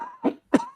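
A man gives two short, sharp coughs in quick succession, close and clear.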